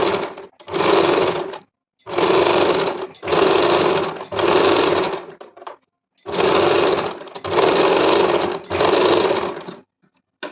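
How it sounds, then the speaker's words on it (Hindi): Sewing machine stitching a kurti neck pattern in fabric, running in seven loud bursts of steady whirring, each one to two seconds long, separated by brief silent pauses, with no talking. "अब मैं इसको सिल लेती हूँ।"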